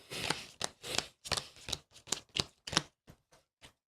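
Aeon's End board game cards being shuffled by hand: a quick run of about a dozen crisp, papery swishes and snaps in an irregular rhythm, close and fairly quiet, with no talk.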